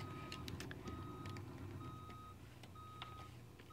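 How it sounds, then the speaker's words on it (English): Steady electronic reversing beeps in the video game BeamNG.drive repeat in a regular rhythm over a low rumbling engine, fairly quiet and continuous throughout. "I'm tired of the beep."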